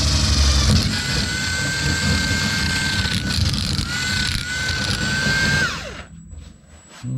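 An electric drill whines loudly up close, its pitch dipping under load and recovering, then spinning down and stopping near the end.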